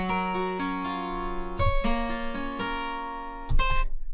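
Software picked acoustic guitar in Logic Pro with the bit crusher bypassed, a clean, bright run of plucked notes and strummed chords in steady rhythm, close and alone.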